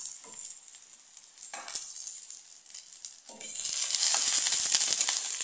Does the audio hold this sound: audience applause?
no